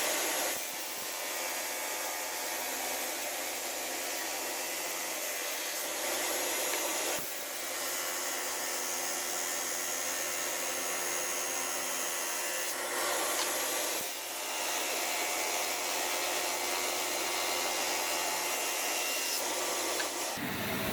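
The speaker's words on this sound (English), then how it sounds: "I'm sanding the high spot, so it's got a little warp in it after last night" A power sander works across a slightly warped wooden cutting board, flattening a high spot with a steady, continuous broadband whir that runs close and unbroken, dipping briefly between passes.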